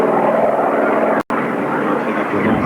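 Propeller airplane with an 18-cylinder, 3000 hp twin-row radial engine at an air base, a loud, dense engine and propeller drone with a brief dropout in the middle.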